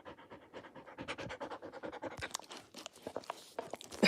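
A big puppy named Lucy pants close up in quick, rhythmic breaths, with wet licking and some scratchy bumping mixed in, and the sounds grow busier toward the end.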